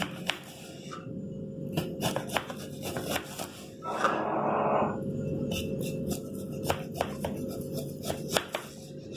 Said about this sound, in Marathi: त्याच्याशी आपण छान लांब लांब चकत्या करणार आहोत।